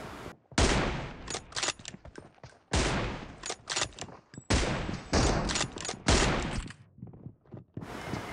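Gunfire in the mobile shooter BGMI, with rapid bursts of loud, close shots separated by short pauses, ending in a few scattered single shots.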